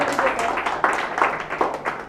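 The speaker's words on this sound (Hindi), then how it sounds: "अरे बजाओ ना ताली।" Students in a physics class clapping, a loose series of sharp hand claps at an uneven rhythm, close and fairly loud, with a voice partly underneath.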